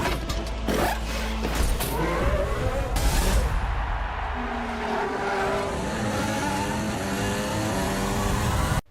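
Racing car engine from an F1 film trailer, loud and dense, with roaring revs and mechanical clatter mixed with dramatic score swelling throughout.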